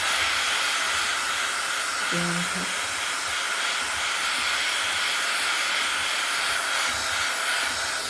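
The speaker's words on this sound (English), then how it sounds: "So this is a heat gun, so I'm having to be a little bit careful not to go too close, or it will melt the jelly" A heat gun warms a gelli printing plate with a steady, loud rushing hiss of hot air that runs unbroken and close for the whole stretch.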